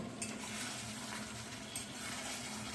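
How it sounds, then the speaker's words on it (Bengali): Chicken with garam masala stirred in a frying pan for tel murgi, a steady close sizzle with faint scrapes of the spoon against the pan, no voices. "আমি এখন একটু উপর থেকে গরম মশলা ছড়িয়ে দিচ্ছি দিয়ে নাড়াচাড়া করে বন্ধ করে দেব"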